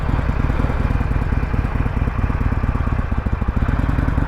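A motorcycle engine runs at a steady, loud, close idle with low rhythmic thumping, and its pulse loosens slightly near the end as the clutch is let out for a first ride.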